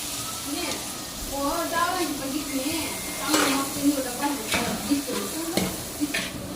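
Tomatoes tipped into a hot pan, a sizzle of frying and stirring rising under a person speaking, with a few clinks and bursts of hiss as they hit the oil.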